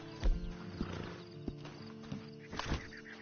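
A horse in the video game Red Dead Online snorts and shifts in place, with a couple of hoof clops and harness jingles close by. No one speaks.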